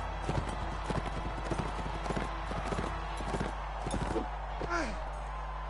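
Rapid hoofbeats from the video game Warband clatter in a steady galloping rhythm, loud and close, with a short whinny near the end over a low continuous hum.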